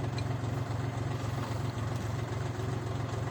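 The engine of a Chinese DF-244 tractor pulling a plough through a field throbs steadily at close range, with a loud, even pulsing chug and no talk.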